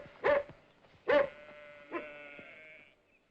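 Sheep from a returning flock bleat three times outdoors, two loud, close, wavering calls followed by a fainter one, with no talking.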